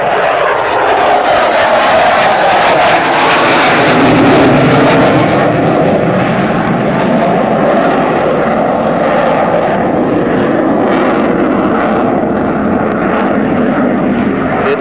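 A loud, steady roar of a Slovak Air Force MiG-29 fighter jet engine at an air show, holding for the whole stretch, close and powerful, with no voices.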